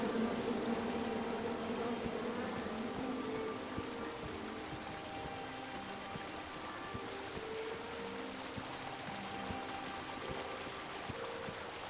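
Angry bees swarming from a chopped-down tree in the King's Quest video game make a dense, continuous buzzing drone that fills the scene steadily, mixed with a faint watery background wash.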